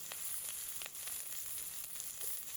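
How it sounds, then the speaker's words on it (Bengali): Chopped onion, garlic and green chilli sizzling in hot oil while radish greens are being cooked. A soft, steady frying hiss runs throughout with faint crackles, heard alone without any talk. "এখন দিয়ে নিচ্ছি পেঁয়াজ, তারপরে দিয়ে নিচ্ছি রসুন, এরপরে দিয়ে নিচ্ছি কুচনো কাঁচামরিচ।"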